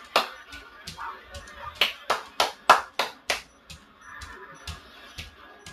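Hands clapping during a Kinect Star Wars motion game, a run of about a dozen sharp claps in a quick, uneven rhythm, loudest in the middle and fading toward the end, heard close up in a room.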